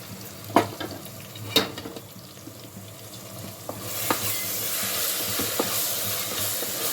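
Chopped tomatoes and dried prawns fry in a pan for gongura dry prawn curry: a few sharp spatula knocks and scrapes at first, then the sizzle swells into a louder, steady hiss with continued stirring.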